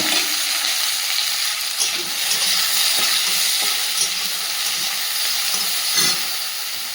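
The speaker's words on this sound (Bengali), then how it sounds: "এদিকে কড়াই চাপিয়ে দিয়েছি, ভেন্ডিটা ভেজে নেব।" Okra frying in a wok with a dried chili gives a steady, dense sizzle with faint hissing and a few soft stirring knocks, close up and with no talking.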